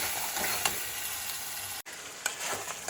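Spices and onion sizzle and fry in a pan while being stirred, a steady bright crackle with occasional scraping knocks and a brief pause, close and fairly loud.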